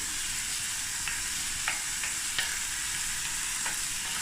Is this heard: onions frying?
yes